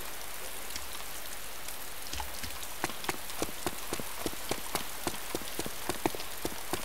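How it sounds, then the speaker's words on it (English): Heavy rain falls in the video game DayZ, a dense steady hiss of drops with louder raindrop taps and patters growing more frequent in the second half, alone without talk. "it's pissing down with rain outside"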